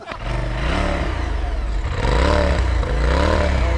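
A vehicle with its exhaust pipes open revs loudly and close by in a snowy setting, the engine note rising and falling in several rough, throaty bursts over about four seconds.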